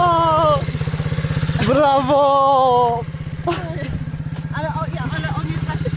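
Pit bike engine on a first ride, a loud, close, pulsing low idle with rising throttle blips, under overlapping excited talking and a short cheer.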